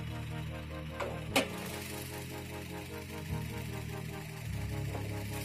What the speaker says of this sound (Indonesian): Jadi teman-teman kan penasaran bagian mesinnya halus atau tidak, bagus atau enggak mesinnya.